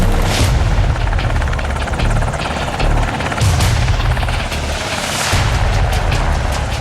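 Helicopters carrying US Navy SEAL commandos thunder loudly overhead with a pulsing rotor chop, heavy and sustained, swelling and fading in waves.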